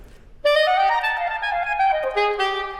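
A saxophone plays a short bebop phrase, a bright sustained note that shifts pitch and then drops to a lower note, close and solo with no voices.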